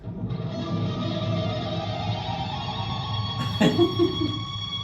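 A sustained, heavily processed guitar plays with dense layered tones and a brief bright flare near the end, fairly loud and continuous.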